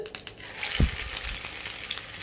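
Crisp potato, poha and ginger garelu fritters, shaped with a hole, frying in oil over medium heat: a close, steady bubbling sizzle with a soft thud as one fritter drops in.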